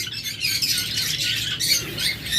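Pet lovebirds and budgerigars squawk and chirp continuously at close range, a dense shrill chatter from several birds with no pauses.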